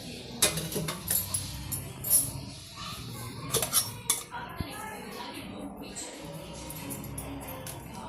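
A spoon clinks and scrapes in a bowl while mixing coconut chili powder, with irregular sharp metallic taps over soft background noise and faint voices.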